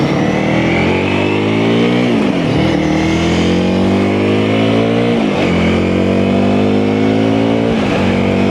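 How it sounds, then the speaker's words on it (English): A 2022 Honda CRF300L fitted with supermoto wheels on a test ride, its engine loud and close, revving and pulling up through gears with two clear shifts as the pitch drops and climbs again. "the 2022 Honda CRF300L. And we're taking it for a little test ride to make sure everything works as planned"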